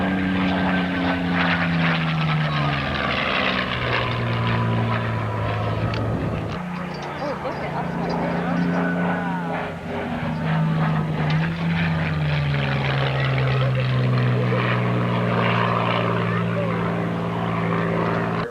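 Propeller aircraft passing at a 1993 airshow in Chatham, Ontario, a loud droning engine whose pitch slides downward as it goes by, with a commentator talking over it throughout.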